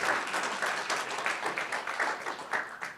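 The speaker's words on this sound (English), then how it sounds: "So big round of applause to the whole community here, please." Brief burst of audience applause during a research overview presentation, steady and dense clapping from a crowd across three seconds with no talking over it.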